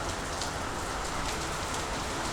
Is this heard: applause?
no